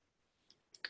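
A single sharp mouse click, faint and close, preceded by two softer ticks, as the save button is pressed on a kvCORE real estate website.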